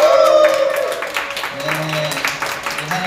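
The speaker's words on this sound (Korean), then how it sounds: "우리 하나님을 향해서 크게 박수와 함성" A congregation at a worship service claps and cheers, a loud burst of crowd applause at the start that fades, with sustained tones and voices continuing beneath as it dies down.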